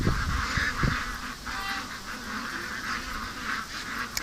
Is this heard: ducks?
yes